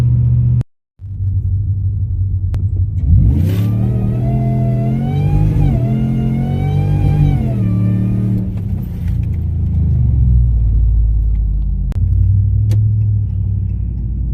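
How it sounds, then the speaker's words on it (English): A supercharged Whipple Ram truck at full weight launches hard with all four tires spinning, its engine rising in a loud revving surge over a deep cabin rumble before easing back to a steady drone. "that first pull was basically useless because we just spun really bad, and that was all 4 tires."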